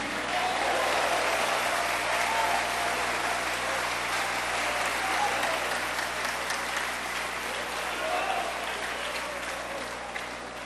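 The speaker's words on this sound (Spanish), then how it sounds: "Dele palmas a Cristo." A large church congregation claps continuously for several seconds, a steady wash of applause that holds at an even level throughout.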